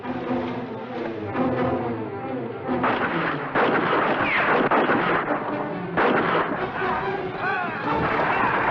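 Gunfire during a battle in a western film, with loud booming shots and rumbling blasts mixed with shouted voices and a dense noisy background throughout.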